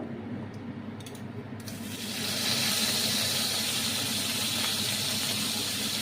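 Ginger paste drops into hot oil with asafoetida for a vegetarian potato and pointed gourd curry. The hiss swells sharply after a couple of seconds into a loud, steady, close sizzle.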